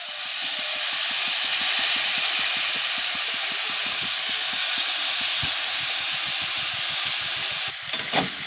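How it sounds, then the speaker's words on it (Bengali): Flattened rice (chira) sizzles with fried onions in a hot pan, a steady loud hiss broken by quick rhythmic scrapes of stirring, then a few louder clatters at the end. "চিড়েটা দিয়ে ভালো করে নেড়ে চেড়ে নিতে হবে"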